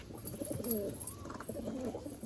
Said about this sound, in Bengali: একটা ম্যাড্রাস পেয়ার দেখুন, খুব সুন্দর পায়রা আছে